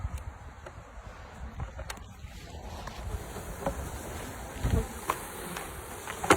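Bees buzz softly and steadily at close range, a faint droning hum with occasional louder passes and light handling noises.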